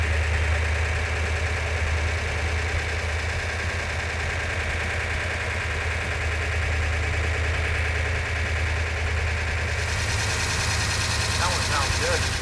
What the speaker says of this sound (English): The engine sounds every bit as good as it did when it was on the engine run stand.